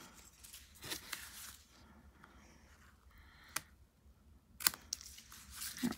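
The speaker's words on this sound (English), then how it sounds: "Scissors." Scissors snipping through a shammy cloth, with soft crunching cuts and a few sharp blade clicks scattered over a quiet room, close and fairly faint.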